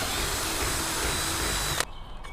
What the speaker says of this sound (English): I'm going to drill a hole right through here to put this wire through.